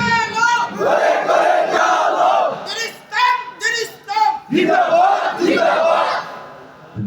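A large crowd at a Bengali Islamic religious gathering in Cumilla roars Allahu Akbar in loud unison several times in reply to a takbir call, the massed voices swelling and falling in repeated bursts.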